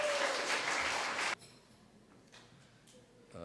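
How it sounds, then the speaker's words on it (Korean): Audience applause welcoming the director to the stage at a university Korean speech contest for international students: a short burst of many hands clapping that stops abruptly, followed by quiet room tone. "큰 박수로 환영해 주십시오."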